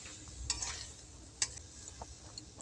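A spoon stirs black and white mustard paste with a little water into a spicy curry of tender bottle gourd greens. The sound is quiet and sparse: a few soft scrapes and light clicks against the pan.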